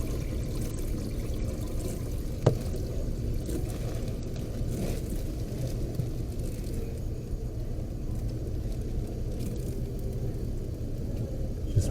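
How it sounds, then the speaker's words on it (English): Water rushes steadily through a Donastar single-stage filter being purged of air, a constant low churning flow with one brief knock partway through. "Just making sure all the air is out of that filter and that it's flowing good."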